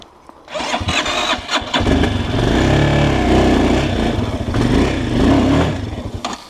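A Forte CBA 250 enduro motorcycle churns through mud, its engine revving hard and loud for several seconds with surging, labouring rises and dips, close to the rider.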